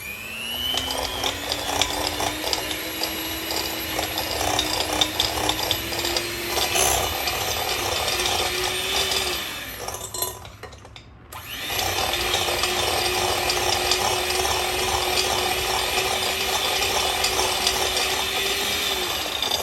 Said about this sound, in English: beat this with my hand mixer on medium for about 2 minutes